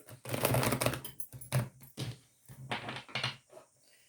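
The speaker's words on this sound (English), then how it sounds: "That was a bit of a bad shuffle" Riffling, fluttering bursts of cards being shuffled and squared up, close by, with clicks and rustles in uneven bursts.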